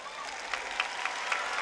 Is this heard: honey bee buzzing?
no